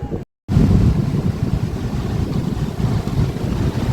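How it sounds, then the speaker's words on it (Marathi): Rough sea surges at a beach near Devgad, a loud, continuous roar of churning waves mixed with strong wind buffeting the microphone, after a brief silent gap at the start. "हे बघा मित्रांनो, आम्ही समुद्रावर आलोय. समुद्र बघा किती खवळलंय."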